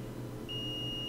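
A multimeter continuity test on a MacBook Air logic board gives one clear, steady electronic beep. It starts partway in and holds to the end over a faint background hum.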